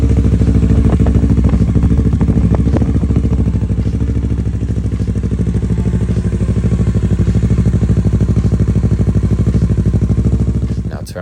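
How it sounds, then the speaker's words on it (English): A Kawasaki Z650RS motorcycle engine idles steadily and loudly up close just after an oil change, with a constant low throb and mechanical clatter that runs throughout before cutting off at the end. "Go ahead and start your bike up."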